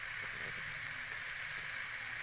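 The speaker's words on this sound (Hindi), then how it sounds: "हमारी सब्जी अच्छी तरह से फ्राई हो गई" Mixed vegetables frying in a pan for an instant kids' recipe, giving a steady, even sizzling hiss close by, with no talking over it.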